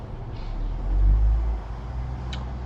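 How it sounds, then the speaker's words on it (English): A dump truck outdoors gives a low, steady rumble that swells for about a second before easing back, muffled and distant behind room tone, with no talking. "you can probably hear there is a dump truck thing outside"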